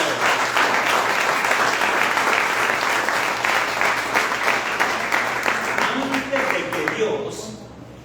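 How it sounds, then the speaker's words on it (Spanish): Loud, sustained applause from a church congregation during a Spanish-language sermon, steady dense clapping for about seven seconds before fading out, with voices mixed in. "Denle un aplauso a mi Señor por esto."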